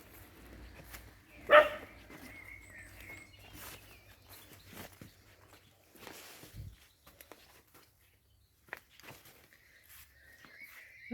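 Dogs set off by a passing tractor near a house, one loud bark burst early followed by scattered quieter yelps and rustling, with faint birdsong and a low rumble in the background.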